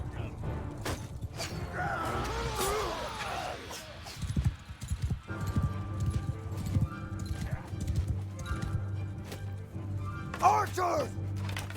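Cavalry horses gallop in the Mount and Blade 2 Bannerlord video game, with rapid clip-clop hoofbeats, occasional whinnies and battle clatter running throughout, under frequent shouted commands.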